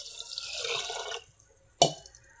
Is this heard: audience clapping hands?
no